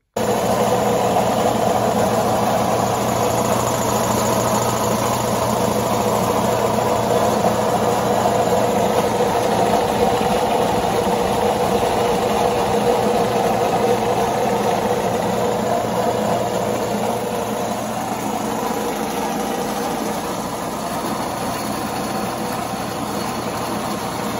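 A rescued vintage Craftsman air compressor runs steadily and close by, a constant low mechanical drone with a motor hum that holds even from start to finish. No one speaks.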